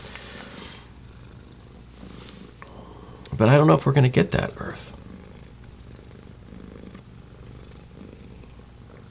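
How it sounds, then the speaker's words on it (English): A cat purring on a person's leg, a soft continuous purr under steady talking, with a brief louder burst of sound partway through. "just like the cat here on my leg."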